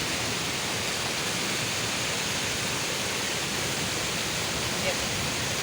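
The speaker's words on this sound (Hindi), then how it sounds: "ये देखिए कितनी स्पीड से पानी आ रहा है।" Heavy rainwater rushes fast across a flat rooftop in Murree during a storm, a loud, unbroken broadband wash with no pauses.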